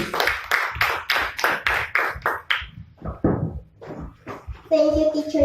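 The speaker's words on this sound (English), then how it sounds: "A round of applause, please." A school class claps for the chairperson of a class debate, a short burst of fairly even, close handclaps that fades into a voice speaking.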